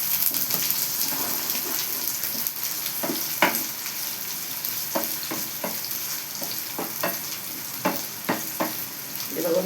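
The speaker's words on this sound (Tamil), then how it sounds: "வெங்காயம் போடுறோம், ஆனியன் கருவேப்பிலை எல்லாம் போட்டுக்கிறோம்." Onions and curry leaves sizzle steadily in hot oil in a pan for chilli chicken 65 gravy, with a continuous frying hiss broken by repeated scraping clicks of a spoon stirring, close and fairly loud.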